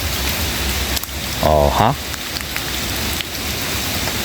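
Steady rain falls outdoors during a hunting outing, a dense continuous hiss throughout, with a short voiced exclamation cutting in partway.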